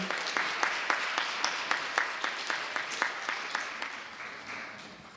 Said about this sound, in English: Please give a round of applause to LaShawna Manigault